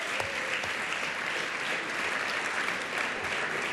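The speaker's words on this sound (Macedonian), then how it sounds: "еден голем аплауз и за сите вас што ги поддржувате" Steady, dense applause from a live concert audience fills the whole stretch, broad and continuous with no pauses and no voices rising above it.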